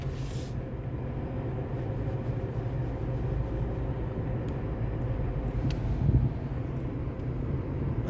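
Steady low road rumble and engine drone from inside a moving car, a continuous muffled hum with slight swells and no talking over it.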